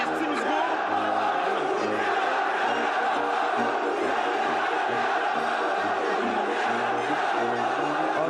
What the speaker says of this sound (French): applaudissements, mesdames, messieurs, bravo, applaudissements bravo. pour nos amis bavarois